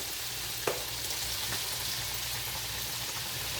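Stewed apples and pineapple simmering in a pan, a steady soft sizzle close by with one light clink near the start and no talking.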